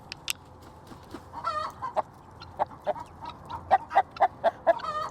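Domestic guinea fowl approach calling in a rapid, rhythmic series of harsh, clucking cries that grow louder and closer, mixed with other farm poultry, with no talk.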